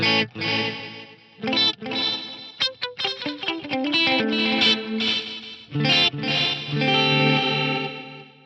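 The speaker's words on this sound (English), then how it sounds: "I will add like some kind of slapback delays in there." A bright synth plays chords and quick notes, each repeated by short slapback delays from an Eventide Eclipse that blur into a thick, wide swell, loud and continuous.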